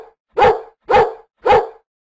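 A dog barks three times at an even pace, sharp and close, with brief silence between barks.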